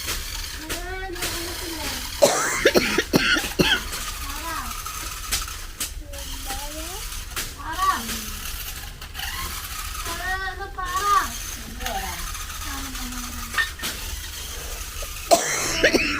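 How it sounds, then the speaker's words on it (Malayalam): A child coughs several times in a busy family home, the short harsh bursts scattered among children's chatter and adult voices, with some faint background noise. "ചുമക്കുന്നുണ്ടല്ലോ അല്ല ചുമക്കുന്നുണ്ടല്ലോ അത്"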